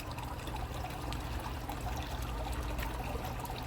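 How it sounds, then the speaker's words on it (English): Water trickles and drips from a leaking waste valve on an outdoor koi pond, a continuous close watery patter with faint splashes, with no talking. "That is actually leaking because of this waste valve needs replacing and is dripping."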